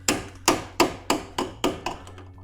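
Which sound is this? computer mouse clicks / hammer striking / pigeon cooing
hammer striking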